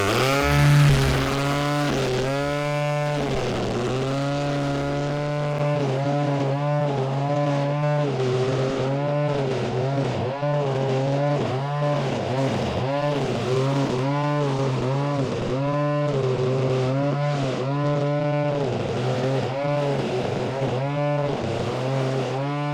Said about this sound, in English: I'm going to start trimming the top and then work my way down